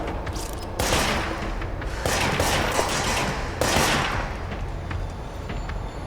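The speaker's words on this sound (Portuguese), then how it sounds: "Mano, ela tá atirando na parede." Gunfire from an enemy shooting at a wall in the game Control, repeated bursts of rapid crackling shots and impacts, loud and close, rising and falling in several waves.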